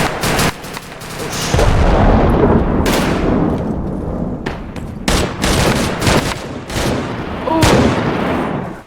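Repeated gunfire cracks and rapid bursts echo during a 2nd Infantry Division military field training exercise that practises breaching. The shots come in close and distant volleys over several seconds, and voices are faintly heard between them.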